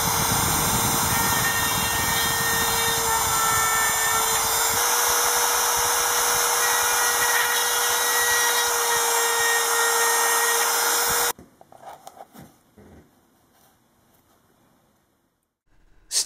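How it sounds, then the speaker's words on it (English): A small power drill whines steadily at high pitch for about eleven seconds, boring 1/64-inch holes in pedal tape, then stops, leaving quiet handling noises. "drill two 1/64 inch holes close together in the center of the pedal tape"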